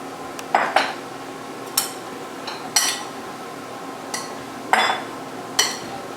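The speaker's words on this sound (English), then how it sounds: "we're going to move it into a different bowl" Soup being transferred from one bowl into a different bowl in a home kitchen: sharp metallic clinks of a utensil against the bowls, spaced irregularly over a quiet background, with no talking.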